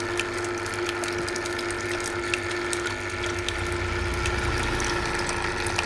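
A Kangen water ioniser runs and pumps water, a steady mechanical hum with a fixed tone, light rattling and trickling flow, continuous and close.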